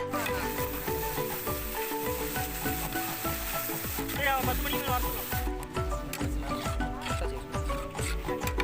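Chopped tomatoes sizzle in a pan while being stirred with rhythmic scraping strokes for a village-style biryani, busy and close, with faint background music underneath.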